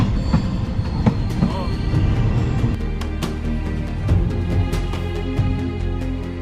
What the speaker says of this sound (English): Rovos Rail, the pride of Africa, runs like an iron ribbon through the beauty of the African land countryside.